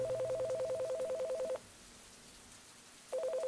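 Telephone keypad tones from the video game The Divine Invasion: a steady run of evenly spaced DTMF beeps, then a pause of about a second and a half, then more beeps starting up again.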